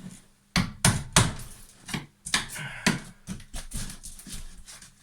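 A hammer taps a plasterboard wall on a timber stud frame: a series of sharp, hard knocks, several quick taps in uneven bursts, close and fairly loud with no talking.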